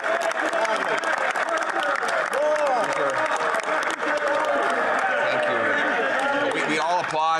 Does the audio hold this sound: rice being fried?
no